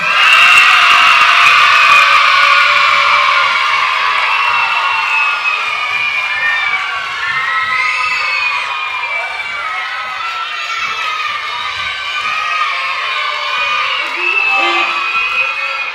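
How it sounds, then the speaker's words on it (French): A crowd at a children's concert performance of Peter and the Wolf applauds and cheers the musicians, with children shouting and whooping throughout; a loud, sustained, roomy wash of claps and high voices lasting the whole stretch. "je vais vous demander à tous et à toutes d'applaudir encore une dernière fois tous les musiciens"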